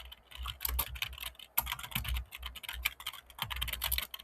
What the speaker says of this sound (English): I'm going to write down the basic code first.